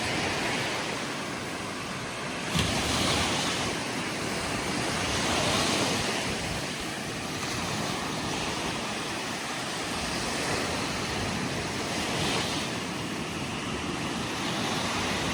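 Black Sea waves wash continuously onto a beach at Kurortne, Odesa region, in July, a broad steady roar with gentle swells, mixed with some wind buffeting the microphone.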